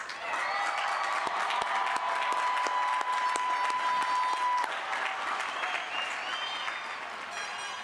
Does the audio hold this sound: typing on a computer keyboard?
no